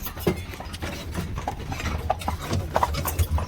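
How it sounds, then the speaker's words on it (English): Amish buggy horses on a Lancaster, Pennsylvania farm clip-clop, with a steady scatter of hoof strikes nearby over low outdoor rumble, moderately quiet and without talk. "I'm tying my horses and we'll get out, take a little tour here."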